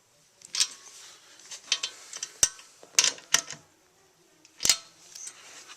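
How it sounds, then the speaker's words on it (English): Torque wrench clicking as racing seat bracket bolts are tightened, sharp isolated snaps and short bursts of ratchety clicks spaced irregularly, close and fairly quiet with gaps of silence between. "I'm going to just go ahead and torque everything down."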